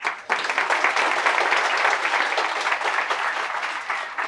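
An audience at a self-confidence seminar applauds, dense sustained clapping that starts abruptly and holds steady for several seconds, loud and crowded with no speech.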